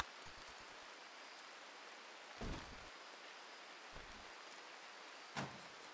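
Soft, steady rain hiss from the Rimworld video game, a faint even wash of falling rain with a few brief low thumps and crackles scattered over it, no voices.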